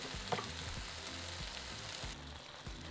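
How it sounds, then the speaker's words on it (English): Two cloves of minced garlic sizzle and fry steadily in a pan, with a soft continuous crackle and occasional faint stirring scrapes, close and moderately quiet. "Stir in 2 cloves of minced garlic and cook for a further 30 seconds"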